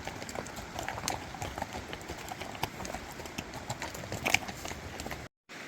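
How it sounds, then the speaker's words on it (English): Hooves clip-clop steadily on a Continental Divide Trail path as horses walk past nearby, with faint rustling underneath and a brief drop to silence at the end. "I hid back on this side to let the horses pass"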